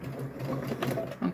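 A sewing machine stitches a fabric bowl cover in short, close, rhythmic bursts of needle chatter, with no talk.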